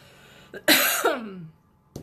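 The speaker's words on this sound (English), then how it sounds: "Why I'm coughing today?" A woman gives a sudden, close cough followed by a brief rasp, then a short second cough after a pause, in an otherwise quiet room.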